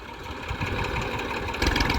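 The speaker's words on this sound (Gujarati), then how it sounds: "તો ચાલો ટ્રેક્ટર આવી ગયું છે" A tractor engine idling in a village field, a close, steady low chugging rumble with a slight knock, constant throughout a short stretch.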